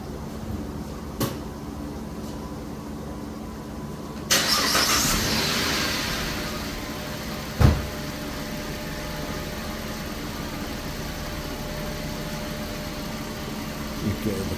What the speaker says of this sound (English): and then start the car.